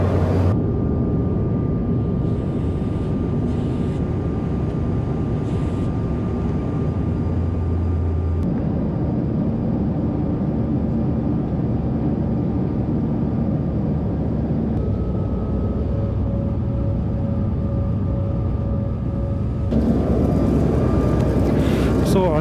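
Steady cabin roar inside a Lufthansa CRJ 900 jet on a short flight from Strasbourg to Munich, a constant engine and airflow drone with a faint tone, rising briefly louder near the end, while a voice talks over it.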